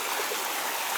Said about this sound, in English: you get a waterfall on each end.